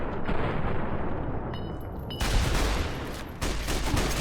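Pistol gunfire in Fallout: New Vegas, a dense burst of sharp shots over steady battle noise, with heavier blasts breaking in at two points across the stretch.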